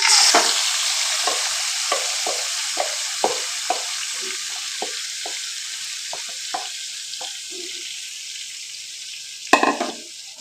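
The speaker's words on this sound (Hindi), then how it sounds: "तेल हमारा गरम हो चुका है। इसमें हम गोश्त को ऐड करेंगे, चिकन को।" Chicken meat frying in hot oil on a full flame sizzles as a steady hiss, punctuated by repeated sharp stirring scrapes and clacks, with one louder clatter near the end.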